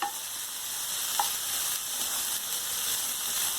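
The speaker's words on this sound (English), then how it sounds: "So just stir this a bit." Eggplant sauce stirred in a pan, a steady close sizzle and bubbling hiss with a couple of faint spoon clinks, no voices.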